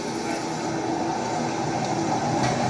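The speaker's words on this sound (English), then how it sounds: "the train is driving on its own" A simulated train running on its own in a railway signalling application gives a steady, even rumble that carries on unbroken, with no voices over it.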